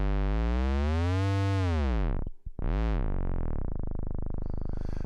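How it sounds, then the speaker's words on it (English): Buzzy electrical hum from the Artifacts lo-fi app on iPad, a harmonically rich tone that bends and warbles, drops out briefly, then returns as a steady loud drone. "All right, and we'll turn it over to the hum now."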